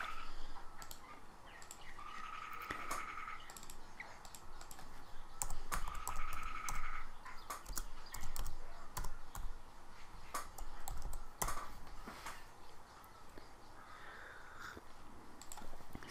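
Fingers type on a computer keyboard in a run of close, quick key clicks with brief pauses, while a crow caws intermittently outside.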